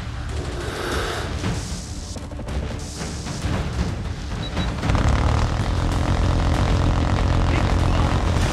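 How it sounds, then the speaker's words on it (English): Hostile stealth chopper flying in during a Call of Duty match, a loud rotor and engine roar that swells and grows heavier midway, with game noise around it. "Hostile stealth chopper inbound."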